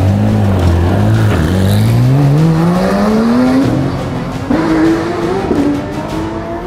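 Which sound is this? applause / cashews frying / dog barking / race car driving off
race car driving off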